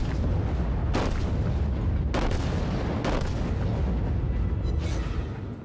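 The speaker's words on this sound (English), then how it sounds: "Get some volley damage on this guy." Heavy naval guns boom in repeated volleys during World of Warships gameplay, loud rolling blasts roughly every second with sustained rumble between, no voices over them.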